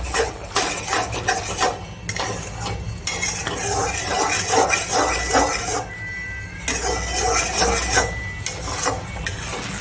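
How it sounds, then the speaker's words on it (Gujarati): Ragi halwa stirred in a kadai, with a metal spoon repeatedly scraping and clanking against the pan in quick uneven strokes, loud and close, broken by brief pauses. "આ રીતે આપણું બધું પાણી બળી જાય ત્યાં સુધી આપણે હલાવીશું"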